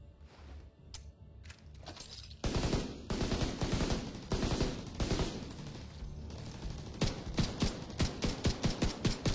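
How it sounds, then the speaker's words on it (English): A pistol fires in a video game: a run of sharp, close shots, sparse at first and then a dense steady barrage that grows into evenly spaced rapid bursts toward the end, with no speech. "I didn't realize the pistol could fire that far."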